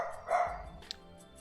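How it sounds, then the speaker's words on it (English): A dog barks toward a curtained window indoors, giving one muffled, mid-distance bark followed by a brief sharp yip, over a steady background hum. "He's barking to the window, but the shades are closed"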